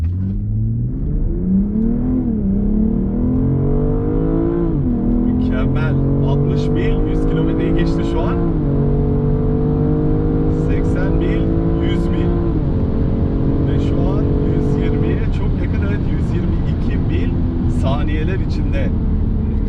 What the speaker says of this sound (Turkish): Aracı tamamen durdurdum. Bir hızlandıralım aracı.